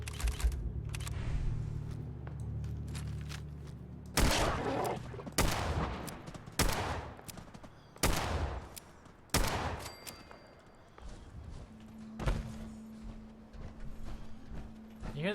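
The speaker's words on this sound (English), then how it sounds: "You hear them shooting at something" Gunfire in Fallout 4, a series of sharp cracking shots at irregular intervals over steady ambient background, sounding fairly distant.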